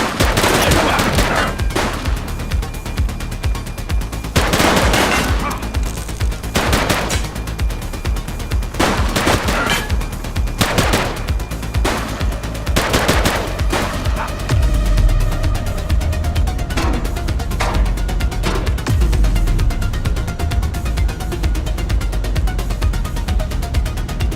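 Rapid gunfire from a police shootout in the video game The Precinct, with loud repeated bursts of shots crackling throughout, some sharp single reports and sustained volleys over a steady background.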